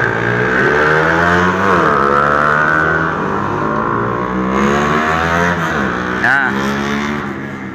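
A motorcycle engine with a loose, not fully tightened exhaust, running and revving loudly up close, its pitch rising and falling, with someone talking over it.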